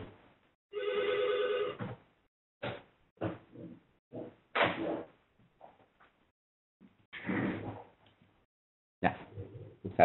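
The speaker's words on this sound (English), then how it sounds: "Sorry, but there's a phone behind me." A workplace telephone ringing in the background, heard as a ringing burst followed by scattered clunks and knocks with gaps of silence between them.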